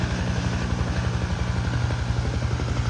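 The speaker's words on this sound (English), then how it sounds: "There's a chopper. I don't know if you can see it here." A low-flying helicopter passes over a beach pier at sunset, giving a steady, loud, low rotor thrum with a rapid rhythmic pulse and no voices.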